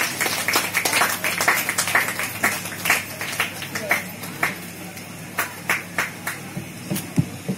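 Audience applause at a Ramakrishna Paramahamsa birth-anniversary celebration, with dense clapping early that thins into scattered, separate claps toward the end.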